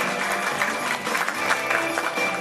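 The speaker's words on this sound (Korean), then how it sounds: "큰 박수로 맞이해 주시기 바랍니다." Audience applause at a community welfare center forum as a presenter is welcomed, a steady, dense wash of clapping throughout with no talk over it.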